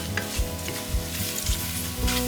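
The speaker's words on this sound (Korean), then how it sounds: "숨이 죽어서 나른해질 때까지 표고버섯은 볶아주세요" Shiitake mushrooms stir-fry in a pan with hot stock or water, giving a steady sizzle broken by soft stirring scrapes at regular intervals, with no voices.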